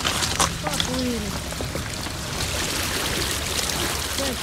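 A vehicle plows through swamp meltwater after driving on snow, with a steady rushing, pouring wash of water filling the whole stretch, plus brief splashy squeaks and a voice near the start.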